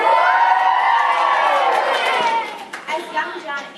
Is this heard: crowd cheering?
yes